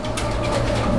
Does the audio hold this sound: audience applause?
no